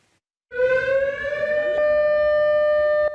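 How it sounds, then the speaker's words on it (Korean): A civil defense air raid siren on Ulleungdo island, one of fourteen sounding across the island, rises into a loud, steady wail about half a second in and holds it without a break, with no voices. "울릉도 전역에 설치된 14개 사이렌에서 경보가 울려 퍼집니다."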